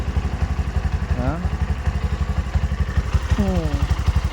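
A Bajaj BS6 motorcycle engine with a worn crankshaft bearing idles close by, a steady rapid thumping knock running throughout, with a couple of brief rising whine-like tones over it.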